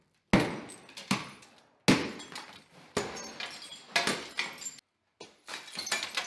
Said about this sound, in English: when I smash it, all the glass is just gonna go right into that bin